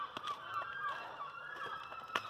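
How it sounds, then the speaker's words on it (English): Faint seagull calls drift in from a distance in Cornwall, several overlapping cries scattered over a quiet evening outdoor background. "as you can also hear, 10 million seagulls everywhere"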